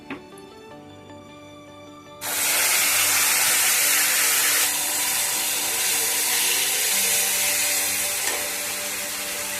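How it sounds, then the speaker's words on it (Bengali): Ginger, garlic and onion paste drops into hot oil for a fried mung dal with katla fish head. After a quiet start, a sudden loud sizzle bursts out and holds steadily, easing only slightly. "এই যে আদা রসুন পেঁয়াজের যে পেস্ট করে রেখেছি, এই পেস্টটা এর মধ্যে দিয়ে দিচ্ছি।"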